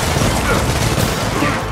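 Dense, loud gunfire crackles through a Gears of War 4 firefight on Xbox One, an unbroken burst of rapid shots heard close up for under two seconds.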